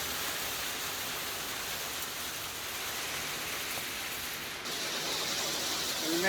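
Heavy rain drums steadily on the tin roof of a small cabin high on a Colorado mountain pass, a loud, dense hiss and patter that fills the space without pause.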